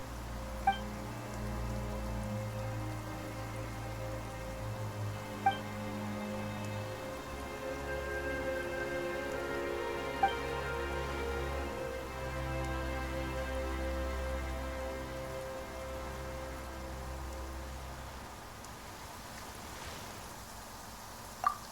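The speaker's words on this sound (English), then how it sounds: "Why is it raining all of a sudden?" Rain suddenly falling in a video game, a soft, steady patter sitting beneath sustained tonal music, fairly quiet throughout, with a few faint sharp ticks at intervals.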